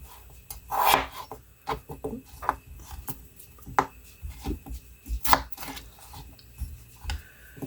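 A knife chops vegetables into smaller pieces on a board, giving a string of irregular, close taps and thuds at a moderate level with a faint rubbing in between.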